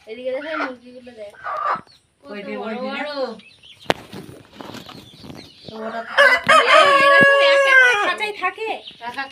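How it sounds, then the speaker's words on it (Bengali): Chickens clucking and a rooster crowing among poultry at a seller's stall where birds are bought for meat, with bursts of clucking early on and a loud crow near the end, interleaved with speech. "এদিকে দেখো মুরগিগুলো দেখ"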